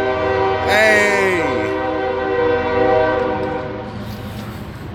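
A train horn blasts loudly and close, layered tones sliding as the train rolls past with steady rumbling underneath; someone shouts briefly over it.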